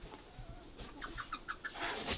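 Chickens clucking near a coop on a farm, with a quick series of short, moderately close clucks over a faint outdoor background.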